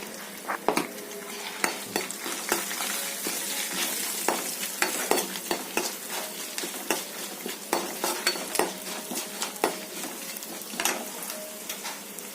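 Tempering of spices with a pinch of turmeric frying in a hot pan for egg pulusu, a steady close sizzle broken by frequent sharp clicks and scrapes of a spoon stirring against the pan.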